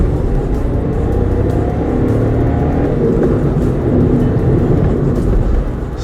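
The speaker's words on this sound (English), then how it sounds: "So yeah, the engine has some amount of noise." A 2020 Skoda Rapid Monte Carlo petrol engine runs with a loud, steady low rumble and hum, close by, holding nearly constant throughout with only slight variation and no voices.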